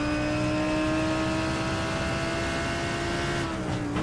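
Lamborghini Huracan GT3 Evo with a 5.2 litre V10 in iRacing at Misano, a loud, steady high-revving engine drone with strong harmonics held near, pitch dipping briefly near the end, no voices.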